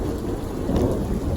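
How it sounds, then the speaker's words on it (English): Rain pouring steadily outside a house during an intense thunderstorm, with a low rumble of thunder swelling underneath, close and fairly loud, no voices. "It's raining and thundering right now, and it's just getting intense"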